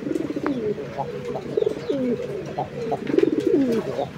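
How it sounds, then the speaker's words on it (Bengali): A male Blackless shorting pigeon coos repeatedly in a loft, giving rhythmic, throaty, rolling calls in bursts at close range over a soft background hum. "আচ্ছা দেখেন নটটা কি পরিমাণ ডাকাডাকি করে।"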